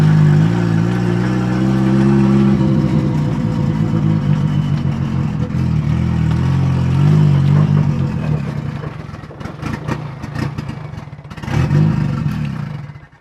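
Nissan 240SX drift car with a turbocharged KA engine, running rich at idle right after its first start, a loud, close, rumbling idle with a lumpy pulse and slight clatter, dipping briefly before rising again.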